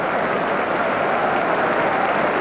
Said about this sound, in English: Southampton sharing in the applause that's resounding around Anfield